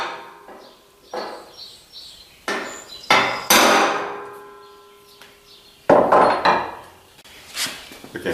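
Sharp metallic hammer strikes on a center punch ring out one at a time at an uneven pace, loud and close, with short pauses and quieter knocks between blows, while working on a 1964 Impala wagon fuel system.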